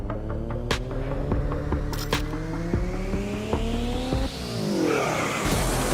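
Officially licensed race cars in the sim racing game iRacing roar past, loud engine drones rising and falling as cars shift gears, with brief tire squeal and overlapping engine whine, no talk.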